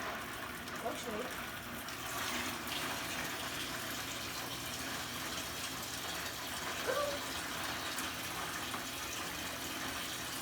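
Hot water running from a tap with weak pressure, a soft steady trickle and splash heard faintly under people talking nearby.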